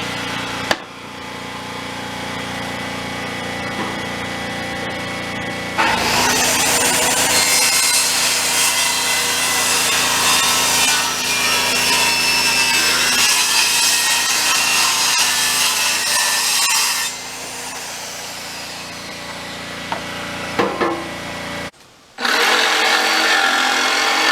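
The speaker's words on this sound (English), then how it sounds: "I have extra plywood. I'm just gonna cut a piece sort of like this to fit." A saw cuts through a piece of plywood to make a new base for a replacement bathtub in an RV: a loud, close, continuous rasping cut lasting about ten seconds, with quieter handling noise before and after.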